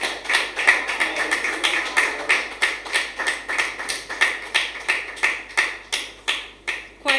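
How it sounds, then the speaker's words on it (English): Audience applause greeting a primary school group at an official courtesy call, steady rhythmic clapping from a crowd that pulses on and off for several seconds with no voices over it. "Please clap them."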